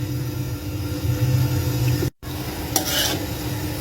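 Rice being tipped into a pot and stirred for sweet zarda, with a steady gritty scraping and stirring hiss close up, a brief cut of silence midway, then a brighter rattling burst of grains as mixing resumes.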